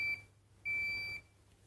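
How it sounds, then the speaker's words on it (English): A PowerTube device gives two electronic beeps at the end of a cycle, a short one and then a longer steady tone, thin and clear against a quiet room. "So it will beep when the first cycle's finished."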